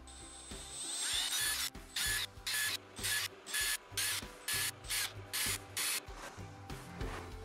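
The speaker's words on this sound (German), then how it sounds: "Das mache ich natürlich mit einem Makita Akkuschrauber." A Makita cordless screwdriver driving screws into wooden boards, a series of about a dozen short, evenly spaced whirring bursts, each a second or less, close and loud over a low background hum.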